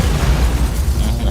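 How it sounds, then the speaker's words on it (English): A bomb explodes in a city, its deep, loud boom rumbling and reverberating continuously without fading, with no voices heard. "The explosion rings out across the city"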